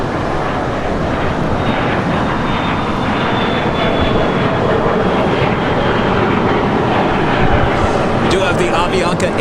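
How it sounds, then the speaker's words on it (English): A Lufthansa Airbus A350-900 jet airliner bound for Munich roars loudly and steadily throughout, a broad dense engine rumble close by with a faint high whine, while a voice talks over it. "This is Lufthansa Flight 453 heading back to Munich, Germany, Deutschland,"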